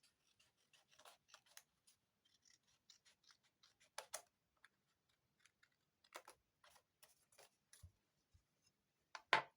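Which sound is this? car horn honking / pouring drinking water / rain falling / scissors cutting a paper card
scissors cutting a paper card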